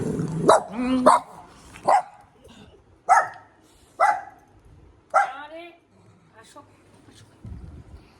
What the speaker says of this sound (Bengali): কে যেন এসছে তাকে এরকম চিৎকার করছে নিকি এমন করা যায় না